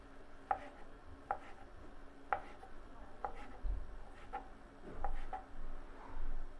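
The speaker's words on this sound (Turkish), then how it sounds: "Doğradığımız sosisleri hemen buraya koyuyoruz." Sharp knife strokes chop sausages on a cutting board in an uneven rhythm of several chops, close and fairly quiet, with soft handling noise between them.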